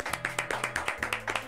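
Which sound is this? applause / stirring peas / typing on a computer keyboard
applause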